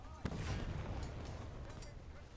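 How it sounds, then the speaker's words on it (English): A naval gun barrage booms in War Thunder: a sharp loud blast followed by rumbling, rolling echoes and a few smaller distant pops, with a voice murmuring underneath. "That was a better barrage"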